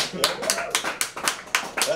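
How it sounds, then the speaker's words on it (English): An audience at a comedy show at Ipanema in Richmond, Virginia, claps briskly for an incoming comedian, with loud, dense bursts of applause pulsing several times a second for two seconds. "Keep clapping until he grabs the mic."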